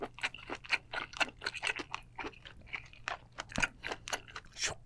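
Close, crunchy chewing and biting on a spicy seafood boil in a mukbang, a quick irregular run of wet crunches and smacks with brief pauses, no talking.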